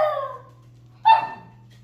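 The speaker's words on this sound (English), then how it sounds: "Why are you barking?" A pet dog gives two short, close barks in a quiet room, one at the start and another about a second later, over a faint low hum.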